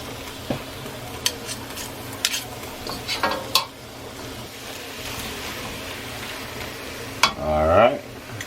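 Food frying in garlic butter on a hot cooktop sizzles softly beneath scattered clicks and scrapes of a utensil, ending with a louder stirring scrape.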